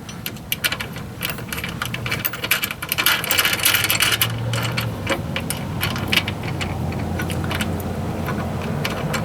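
A 10mm wrench working lock nuts tight on a running board, with close, irregular metallic clicks and ratcheting over a low steady background hum.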